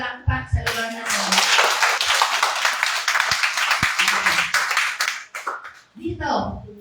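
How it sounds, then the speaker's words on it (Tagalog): A congregation at a Sunday church service claps loudly and together for about five seconds. A voice speaks over the start and end of the clapping, and a few sharper single claps stand out. "Malakas na palakpak sa lugar na ito."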